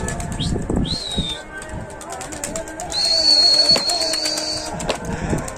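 Tumbler pigeons calling and wings flapping outdoors, with brief whistling chirps and scattered noises over a steady background murmur.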